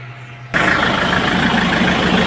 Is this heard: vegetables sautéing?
no